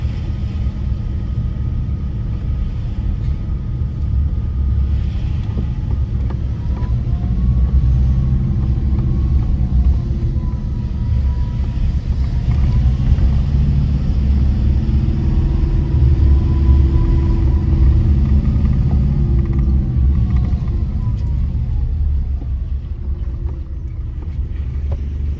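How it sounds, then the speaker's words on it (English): Steady low engine rumble and road noise from inside a car driving along Bamboo Road in Tunapuna, continuous and fairly loud with no talking. "I drive to the end of the Bamboo Road"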